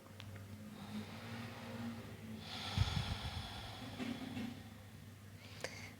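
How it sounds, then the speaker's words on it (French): Slow yoga breathing, a long inhale through the nose followed by an exhale through the mouth, soft and close in a quiet room with one stronger breath near the middle. "Prends une longue inspiration par le nez. Expire, souffle par la bouche."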